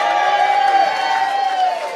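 A comedy club audience cheers and shouts together in a steady, loud, continuous roar with no pauses across the whole moment.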